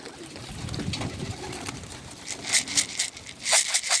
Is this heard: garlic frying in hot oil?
no